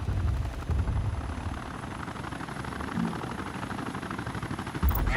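Helicopter rotors thump steadily through a video game battle in Tom Clancy EndWar, a loud continuous chopping drone with a few brief impacts and bursts layered over it.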